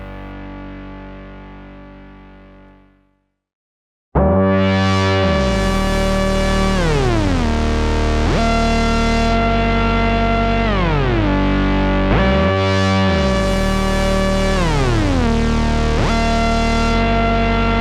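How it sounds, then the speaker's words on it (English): A loud, distorted Moog synthesizer tone swoops up and down in repeated curving exponential glides, the pitch sliding smoothly between notes after a brief fading tone and silence. "Let's make the glide up and down exponential on voice 2."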